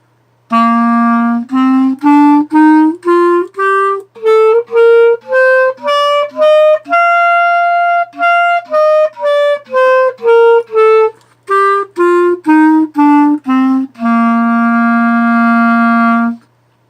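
A clarinet plays a rising run of distinct notes and then steps back down, each note clear and sustained, ending on a long held low tone. No voices.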